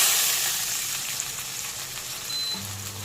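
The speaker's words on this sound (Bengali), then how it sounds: "এবার অল্প একটু জল দেবো।" Water poured into a pan of frying vegetables, after the aubergine pieces are set aside, bursts into a loud, steady hiss and sizzle that holds close and continuous, with no voices over it.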